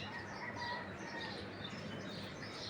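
Flock of pigeons at a loft, their soft cooing and faint chirps blended into a steady, dense bed of outdoor noise with no clear individual calls standing out.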